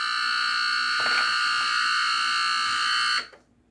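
Egg cooker alert, a loud, piercing electronic alarm tone with a harsh buzzy edge, sounding continuously for about three seconds before cutting off abruptly into near silence.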